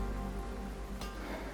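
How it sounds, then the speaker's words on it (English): Rain falls steadily in the HundredDays winemaking simulator video game, an even, hissing wash of rain with one brief, brighter burst partway through and no speech. "gotta wait for it to stop raining."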